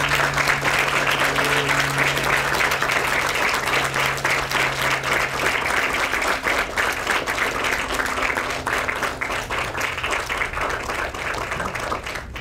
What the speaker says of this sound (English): thank their parents and their friends with a round of applause